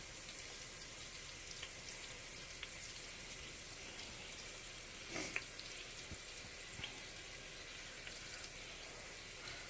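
Meatballs browning in a pan give off a faint, steady sizzle with light crackles and a couple of small pops, quiet and unbroken with no voices.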